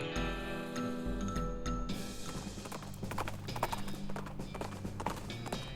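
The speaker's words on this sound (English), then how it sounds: "Horse moving that fast really changes things." Galloping horse hooves from the video game West of Loathing form a rapid, steady clip-clop at close range, layered over a continuous game backdrop.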